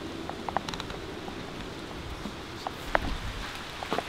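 Steady rain hissing down, with scattered heavier drops pattering close by.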